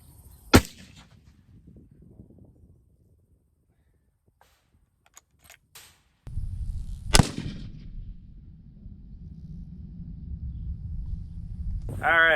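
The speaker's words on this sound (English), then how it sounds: "up next we got some 174 grain coming out of this Mossberg Patriot" Two loud, sharp rifle reports from a Mossberg Patriot 7mm Rem Mag firing 174-grain rounds at a garbage disposal, the second shot ringing out over steady low rumble and wind noise, with brief quiet handling sounds between.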